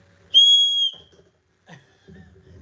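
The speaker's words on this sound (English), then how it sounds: "I got a little whistle" A small handheld whistle gives one loud, shrill blast lasting about half a second, followed by faint scattered noises and low murmuring.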